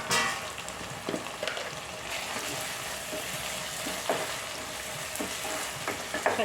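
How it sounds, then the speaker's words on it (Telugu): Prawns with masala and green chillies frying in a pan, a continuous close sizzle and crackle with intermittent stirring scrapes, no voices. "ఈ రొయ్యల్లోనే వేగాలండి మసాలా కూడా"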